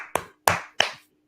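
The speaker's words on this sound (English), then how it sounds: "Clap it up, man." Three separate hand claps in a quiet room on a radio-style show, evenly spaced and sharp, each with a short decaying tail, close and fairly loud, with silence after the last.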